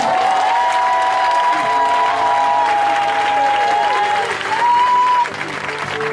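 A church congregation at a Sunday service applauds and cheers loudly for Jesus Christ, with sustained dense clapping, shouts and whistles throughout, and a sung or sustained voice line weaving through the crowd noise.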